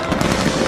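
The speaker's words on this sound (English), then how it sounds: "You should be able to see the fireworks from where you are, as the fireworks display has been decentralized to 10 locations across the island." A dense, continuous crackling roar from the fireworks display at Singapore's National Day Parade 2020, which was spread across ten locations on the island. The burst is brief and loud, with no talk over it.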